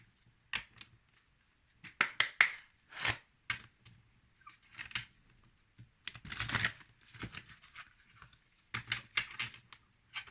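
Tarot cards being handled and drawn from a deck: bursts of soft papery shuffling, slapping and sliding, close and fairly quiet, coming in irregular clusters with short pauses between them.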